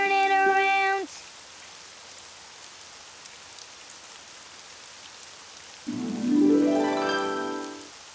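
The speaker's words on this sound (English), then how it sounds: "Oh, it's raining outside." Steady, soft cartoon rain patters outside, a quiet hiss running through the middle of the clip between short musical tones at the start and near the end.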